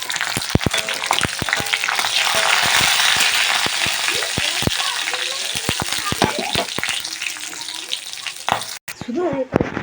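Five-spice seeds and slit green chillies drop into hot mustard oil for a mixed-vegetable fish curry, a loud close crackling sizzle with sharp spattering pops, someone speaking over it, then the frying briefly quiets near the end.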